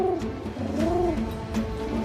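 Soft, rolling coos from pigeons repeat several times at close range, low and throaty, over a faint background hum.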